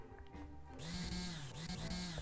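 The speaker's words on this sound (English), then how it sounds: "One is drilling." A drill in the VR game Dwingle Bot starts up partway through, a steady whirring motor tone with slight pitch wobbles that carries on, close and fairly loud, after a quieter start.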